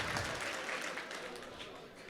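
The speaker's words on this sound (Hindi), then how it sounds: "अच्छा लगा तो एक बार तालियां बजा के इजाजत दें" Audience applause at an All India Mushaira and Kavi Sammelan poetry recital, a steady moderately faint wash of many hands clapping from a crowd with no clear individual claps standing out.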